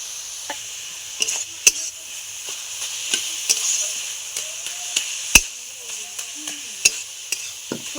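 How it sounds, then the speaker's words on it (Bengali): Steady sizzling of food frying in a pan, with scattered sharp clicks and scrapes of stirring throughout; no voices. "আমি ভালো করে এবার ভাজা ভাজা করে নেবো"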